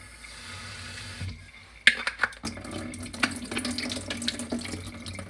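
Running tap water rinses drained beans in a kitchen sink, a steady splashing stream that turns louder and more uneven as the beans are stirred under it, close by with no speech.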